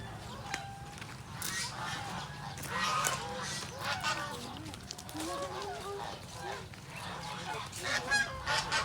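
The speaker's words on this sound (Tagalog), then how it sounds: "Gansa, mga yan." Geese on a farm honk repeatedly nearby in a busy, overlapping chorus, with people talking throughout.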